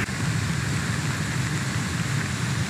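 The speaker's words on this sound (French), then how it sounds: "Bon, il pleut de nouveau à fond." Heavy rain pours steadily in the mountains during a summer hike, a dense, continuous wash of drops with no voices heard.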